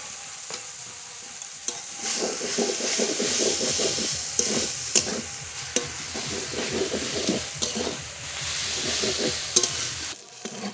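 Mustard greens fry and get stirred in mustard oil over a low flame, a steady close sizzle broken by repeated scraping strokes of a spatula through the pan, no voices.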